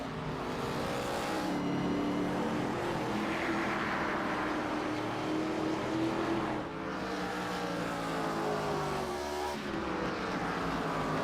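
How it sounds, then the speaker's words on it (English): Pro Cup Series race cars run hard around the New Smyrna oval, their engines roaring loudly and continuously for the whole stretch with a slight swell and dip as they pass. "Both of these cars driving hard."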